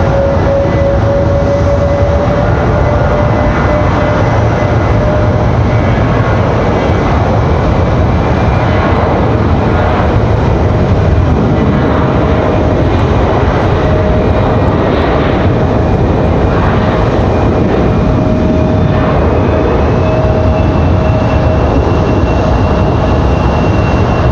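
A jet airliner roars as it takes off at Raleigh-Durham International Airport, a loud, continuous engine rumble with a rising whine that fills the entire stretch, with no one speaking.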